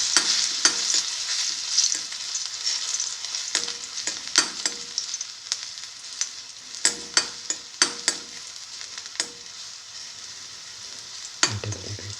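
Banana pieces frying in a pan, a soft continuous sizzle broken by a series of sharp spatula taps and scrapes against the pan, no speech.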